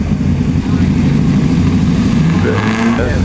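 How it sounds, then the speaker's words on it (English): Alfa Romeo car engine at a concours car show, a steady low rumble running throughout the short stretch with a slight rise near the end, with crowd and voices mixed in. "Big Alfa Romeo here."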